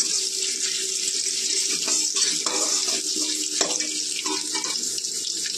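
Panch phoron spices and extra fennel seeds fry in hot oil in a pan for Bengali mulo dal, a steady hissing sizzle with occasional stirring scrapes, close and continuous.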